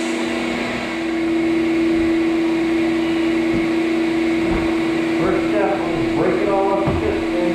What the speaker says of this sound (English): I'll be hitting the very far back wall with my grinder as I clean up underneath that